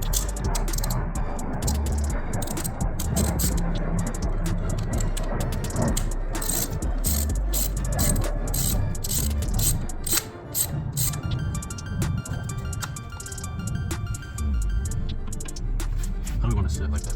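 Ratchet clicks while tightening the bolts on a racing seat bracket inside a 1320 Dodge Challenger, steady mechanical clatter close by throughout, with talk over much of it.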